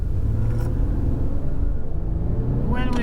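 An Infiniti Q50 engine rumbles at a steady low drone, heard from inside the car as a continuous loud hum with faint higher whirring.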